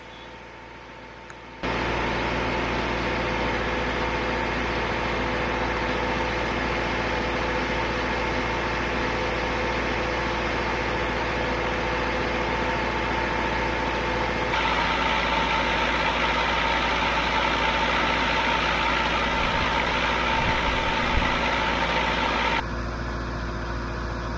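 An old Lincoln welder's generator engine starts up and idles steadily with a loud, constant drone and broadband hiss, shifting slightly in tone partway through before cutting back near the end; no talking.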